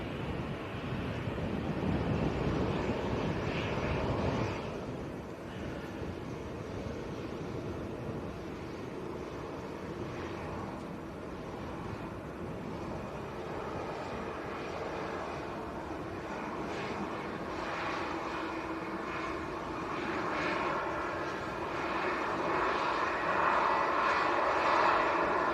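An airliner arrives on runway 05R at Manchester Airport with a broad, continuous engine roar. The sound rises and swells over about twenty-five seconds, and wind rumbles on the microphone throughout.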